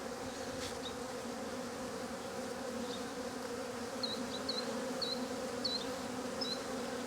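Bees buzz at a hive in a steady, close drone of many insects, a few individual bees passing audibly near, with no talking.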